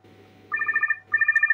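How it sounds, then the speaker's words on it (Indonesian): Ringtone of a Motorola V3i mobile phone: two loud, bright bursts of rapid repeated electronic tones with a short gap between them, over a faint low background hum. "Nah, ini ringtone khas ya."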